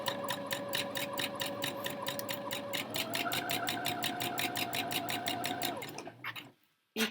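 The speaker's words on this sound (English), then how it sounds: "we're going to stitch until we get to the next seam" A sewing machine runs continuously at a steady fast rhythm while stitching skirt seams, then slows and stops abruptly near the end, with a brief clack after.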